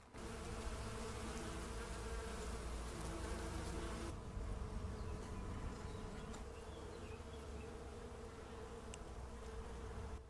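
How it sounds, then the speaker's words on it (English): Bees hum steadily around a flowering rosemary bush in a Tuscan garden, a continuous close, soft buzzing that swells and shifts as individual insects pass near. "it's in flower at the moment, so it's beautiful. It's full of bees"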